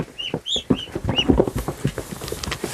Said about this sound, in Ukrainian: вони бояться трошки, качики бояться